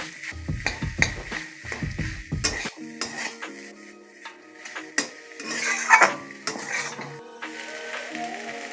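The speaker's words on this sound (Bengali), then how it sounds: "বিট গাজরের সাথে ভালো করে ভেজে নেবো আলুটা" Mashed potato being fried and stirred with beetroot and carrot in a pan for Kolkata-style vegetable chops, with repeated metal spatula scrapes and clanks against the pan over a faint sizzle.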